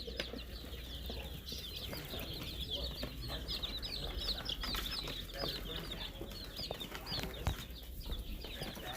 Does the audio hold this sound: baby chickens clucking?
yes